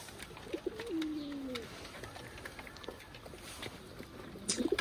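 High-flying pigeons of an old breed coo close by in a loft at morning feeding, a few soft rising and falling calls with light pattering and shuffling around them.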